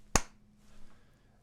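A group clapping together on a count of three lands as one sharp, close clap, a single crisp transient followed by near silence.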